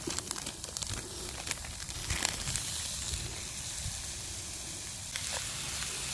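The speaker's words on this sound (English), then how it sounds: "Might as well get the beef in there as well now." Beef hits hot oil with onions in a pan over a backpacking camp stove, giving a steady close hiss and crackle with a few brief crinkly pops throughout, no voices.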